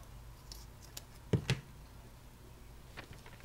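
Two quick scissor snips close together, crisp and close, in an otherwise quiet room.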